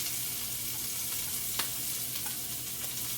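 Chopped onion with garlic and ginger sizzles steadily in a hot pan, a constant bright hiss with a few soft clicks and stirring scrapes close by.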